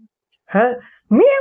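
A human voice mimics a cat with two drawn-out meows separated by a short pause, close and clear with no other sounds.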